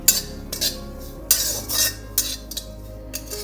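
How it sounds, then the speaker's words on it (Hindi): Dry grated coconut roasting in a pan at home, stirred with a metal spoon that gives several sharp, close scrapes and clinks in uneven bursts, with quiet gaps between. "ये अब हमारा ये सूखा नारियल ऐसे ये भूनना है"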